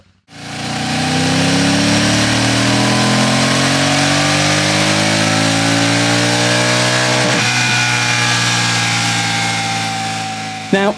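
A Royal Enfield Shotgun 650 (2024) parallel-twin motorcycle engine runs on a dyno at BSD Race Developments in Peterborough, loud and close, its tone rising steadily as revs climb and then easing off near the end.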